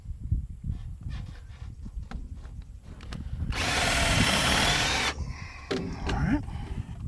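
An undersized power drill boring through material, a harsh high whine that runs for about a second and a half amid clattering handling noise and low rumble.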